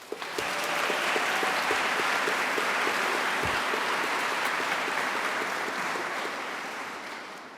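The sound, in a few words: graduation audience cheering and applauding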